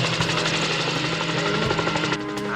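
A helicopter flies steadily close by, its loud rotor thump and engine drone filling the whole stretch without pause, with a red sports car chase scene in the 1982 series The Fall Guy.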